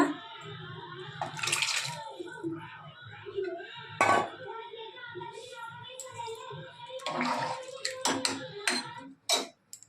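Cooking water from boiled field beans is poured into a simmering tamarind curry with brinjal: soft splashing and trickling bursts with pot clatter, under a woman's quiet speech.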